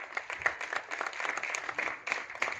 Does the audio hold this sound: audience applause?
yes